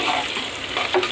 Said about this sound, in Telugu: కందిపప్పు వీటన్నిటిని ఆయిల్లో ఫ్రై చేసుకోవాలి